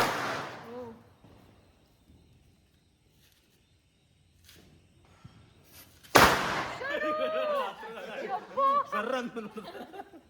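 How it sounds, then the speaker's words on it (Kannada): Handheld firecrackers set off during a Tulsi festival celebration: a sharp, loud bang bursts out mid-clip after a quiet stretch, followed by excited chatter and laughter from people nearby. "ಕೈಯಲ್ಲಿ ಹೊಡಿತಿರೋ ಪಟಾಕಿ"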